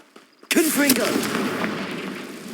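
Confringo fire-blast spell in the Hogwarts Legacy video game, a sudden loud burst and crackling blast that fades over two seconds, with a voice calling out over it.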